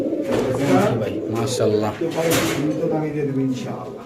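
Pigeons cooing in a loft where pairs are kept for sale, their low throaty coos continuous and close, layered with voices talking nearby.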